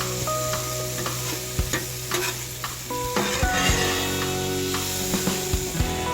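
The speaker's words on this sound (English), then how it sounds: "Now let me get you guys in on a close-up and just hear the sizzling of all those flavors." Machacado seasoned with garlic powder frying in a pan, a steady close sizzle broken by scraping and stirring clicks from a utensil, with no voices.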